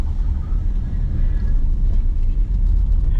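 A pickup truck's engine idles steadily while warming up outdoors near a propane tank on a winter snowplowing day, a continuous low rumble holding at even loudness throughout with no talk.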